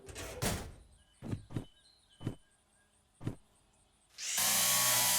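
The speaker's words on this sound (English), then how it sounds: "let's go ahead and drill this guy" A part is drilled in the Derail Valley train simulator game while customizing a DE6 locomotive: a few sharp clunks and taps, then a loud, steady power-drill whine that starts abruptly and runs to the end.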